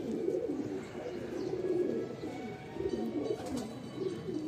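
Garra pigeons cooing in a loft, a steady low murmuring coo from several birds close by, continuous with no talk.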